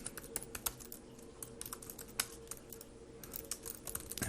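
Someone types on a computer keyboard while configuring network routers: quick, uneven bursts of close key clicks, quiet and unaccompanied by talk.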